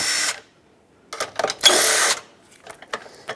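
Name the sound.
deep 10mm socket removing battery hold-down nuts, Honda Accord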